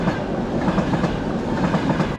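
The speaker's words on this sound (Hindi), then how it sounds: "तो जब आप ट्रेन में ट्रैवल करते हैं" A train runs along the coast through Cinque Terre, Italy, a steady loud rumble with rhythmic clickety-clack of wheels over rail joints, close and continuous throughout.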